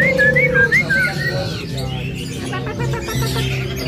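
A caged songbird at an Indonesian bird kiosk sings loud, close whistled phrases in quick repeated bursts, over a busy background of other birds and low murmuring.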